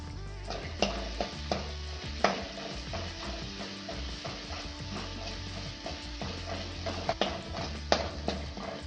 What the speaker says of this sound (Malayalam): നന്നായി മുരിയുന്നത് വരെ ഇളക്കുക